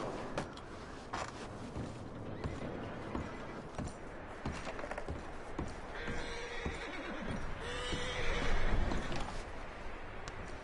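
Horses whinny and neigh in the open world of the video game Red Dead Redemption 2, with hoof clip-clop and dense outdoor ambience, mixed into a busy, continuous game soundscape.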